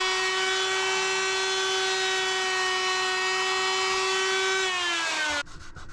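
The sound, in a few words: router sled flattening wood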